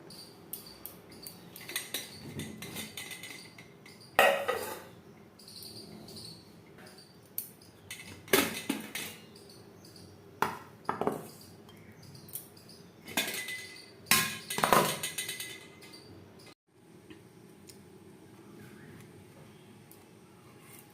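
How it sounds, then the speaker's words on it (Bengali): Metal spoon scraping soft steamed idli off a steel idli plate, a string of short clinking scrapes in irregular bursts separated by quiet pauses, close up with no voices. "একটা চামচের সাহায্যে এভাবে প্লেট থেকে ছাড়িয়ে নেব।"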